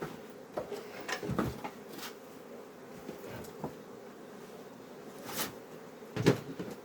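Honey bees buzzing around beehives in an outdoor apiary, a steady low drone with occasional closer passes and a few soft knocks and scrapes, no voices.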